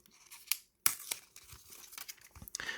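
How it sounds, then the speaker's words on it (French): Paper wrapping torn off a GoPro Hero 9 Black camera box: several quick close ripping and crinkling bursts with short pauses, fairly quiet, no talk. "on va enlever au moins le papier"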